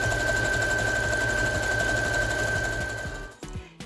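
A sewing machine stitching the side seam of a pouf made from bottles, running loud and close with a rapid, even mechanical rhythm for several seconds before slowing and stopping near the end, no talking.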